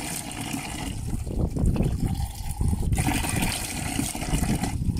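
Copper piece rinsed under a running tap to wash off salt and lemon juice, a steady broadband rush of flowing water with splashing variations throughout, close and continuous.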